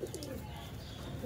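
A golden pigeon gives a short, soft coo close by, over a low background rumble.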